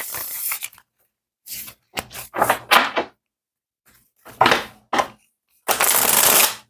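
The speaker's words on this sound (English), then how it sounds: "Three more shuffles." A deck of reading cards is shuffled in several separate riffling bursts with quiet gaps between, close and crisp, ending in a longer burst.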